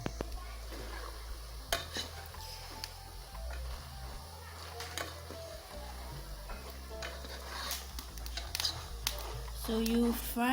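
Ghana chinchin dough fries in a pot and is stirred now and then, with a soft continuous sizzle, scraping utensil knocks against the pot and a few brief clinks, under occasional speech.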